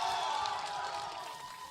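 An esports arena crowd at a Sentinels versus 100 Thieves match cheering and roaring in a steady, loud wash of voices that fades slightly over under two seconds.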